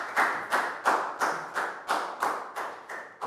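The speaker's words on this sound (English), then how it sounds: "Big round of applause for Chu." A Year 4 class claps together for a classmate in rhythmic unison, about ten sharp, evenly spaced claps at a brisk steady pace, fairly close and with no talking.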